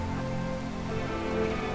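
Rain in the colony-building video game RimWorld, a dense, steady patter of drops that runs evenly through the short stretch, fairly loud, with no voices.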